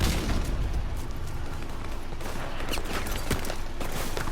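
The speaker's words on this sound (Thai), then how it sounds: "เอ้ยระเบิดระเบิด" Explosions and bursts of gunfire in the Call of Duty Modern Warfare video game, a dense chaotic barrage of booms and sharp pops throughout, with no voices over it.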